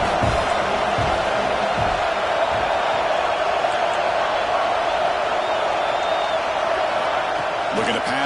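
A college football video game stadium crowd roars in a broad, steady wash of noise as fans try to spur the defense to a red zone stop, with faint voices mixed into the din.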